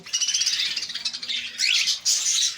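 Caged common white birds, a breeder pair at the Sahiwal bird market, give a dense, continuous mass of high chirps and rattling squawks up close, with short louder bursts.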